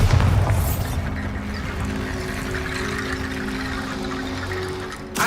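An explosion from the Bombarda spell in the Hogwarts Legacy game: a loud low boom at onset that settles into a sustained rumbling roar, with steady hum tones underneath and a sharp crack near the end.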